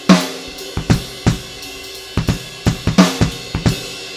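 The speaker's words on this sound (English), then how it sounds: "You would not be playing jazz with an incredibly loud bass drum and soft ride cymbal." A drum groove with a loud, booming bass drum and a soft ride cymbal, with heavy low thumps in an uneven repeating pattern, close and prominent with no talking.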